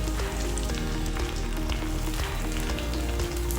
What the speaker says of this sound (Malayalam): പനീർ ഒത്തിരി ച്യൂവായി പോവാതിരിക്കാൻ ഉള്ള രീതിയിൽ നമ്മളൊരു മീഡിയം ഹൈ ഫ്ലെയിമിൽ വെച്ചിട്ട് വേണം ഫ്രൈ ചെയ്തെടുക്കാൻ.